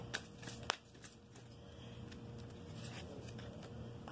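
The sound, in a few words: tarot cards being shuffled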